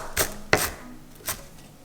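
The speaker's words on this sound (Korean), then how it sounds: "두 번째 재료는 부추예요. 한 줌 50g을 잘게 잘라주세요." A knife chops a handful of garlic chives finely on a cutting board, three crisp strikes at uneven spacing over a faint hum.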